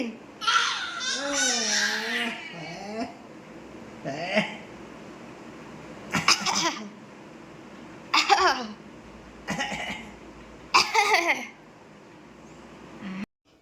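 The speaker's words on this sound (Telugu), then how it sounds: "దగ్గు మరి" A child babbles and fusses, broken by several short, sharp coughs spaced out over the clip, close to the microphone.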